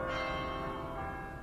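A bell tolls in a ringing, sustained stroke with a rich cluster of overtones that slowly decays, loud and alone without any voices.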